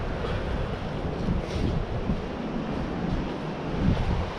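Surf washing in at a small hidden beach by a bay or lagoon, a steady broad rush of waves with wind buffeting the microphone throughout and no voices.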